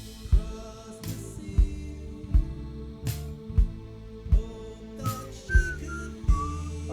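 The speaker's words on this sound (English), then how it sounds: "I shouldn't whistle, it overloads it." A person whistles a short melodic phrase alone at close range, with steady sustained notes and a few rising glides, over repeated muted drum hits.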